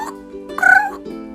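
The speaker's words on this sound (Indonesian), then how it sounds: "Terdengar suara perut belalang berbunyi." Cartoonish stomach-growl effect for a starving grasshopper: a short run of warbling, croaky tones that swells into one louder squeaky burst midway, then fades to a low hum, with no talking.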